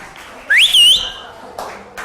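A single loud whistle blast, rising then wavering for about half a second, followed by faint taps and low chatter in the background.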